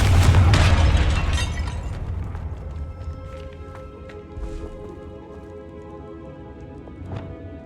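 A Confringo blasting spell explodes in Hogwarts Legacy with a loud, booming burst at the start that rolls off into a lingering rumble, followed by scattered small clicks and chimes of game effects.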